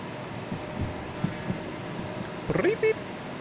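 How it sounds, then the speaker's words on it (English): Short electronic warning beeps signaling overheating oil in a train simulator game, a few quick tones near the end over steady cab rumble and background noise. "So if you hear that beep beep noise, that means oil is getting too hot"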